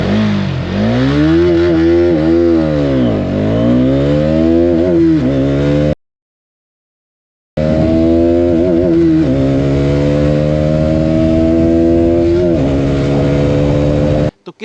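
A Hero Xtreme 250R 250cc motorcycle accelerates hard from a standstill toward 100, its engine note loud and rising, dipping at each gear change, then cutting to silence briefly before another steady climbing run.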